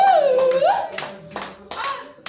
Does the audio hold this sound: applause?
yes